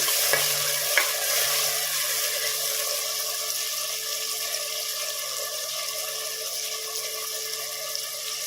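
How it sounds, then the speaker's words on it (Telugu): Onions and green chillies fry in hot oil in a pan, giving a steady close sizzle with a few clinks and scrapes of stirring early on, with no voices. "ఇప్పుడు ఉల్లిపాయలు, పచ్చిమిరపకాయలు వేసుకుందాం. ఒకసారి కలుపుకుందాం."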